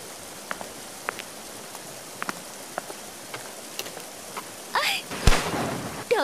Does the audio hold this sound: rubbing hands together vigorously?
no